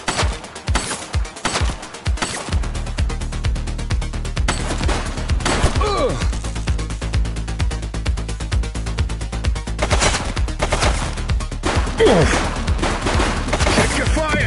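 Gunfire in the police video game The Precinct: rapid loud close bursts of automatic fire at the start, then dense continuous shooting and impacts with scattered crashes.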